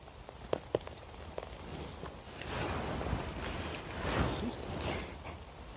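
Rain falling in woodland during a mushroom hunt, a soft diffuse patter that swells in the second half, with a few close rustles and footstep-like knocks early on, no speech.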